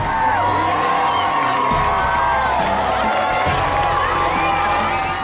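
A street crowd, mostly strangers lined along the route, cheers and whoops loudly and continuously, with shouting children and scattered clapping mixed in a dense, close roar.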